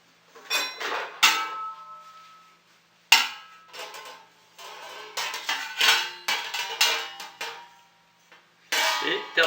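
A metal pot lid clanks onto a cooking pot of calf's feet and marrow bones after water is added, a few sharp, bright metallic clangs and rattles close by.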